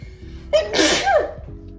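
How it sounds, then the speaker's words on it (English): A single loud sneeze set off by loose hair up the nose during braid removal, a sharp inhale followed by a forceful burst, up close and alone. "It doesn't take anything for me to start sneezing."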